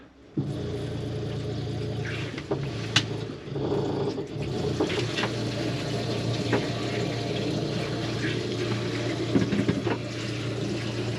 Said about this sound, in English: what we do is we hear the pump as well